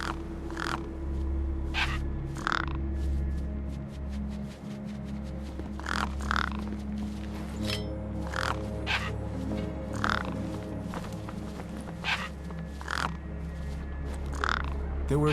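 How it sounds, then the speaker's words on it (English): Crows in Beyond a Steel Sky caw repeatedly over a corpse, loud harsh calls spaced irregularly across a steady low hum, some overlapping. "No way I was going to get between those birds and their feast."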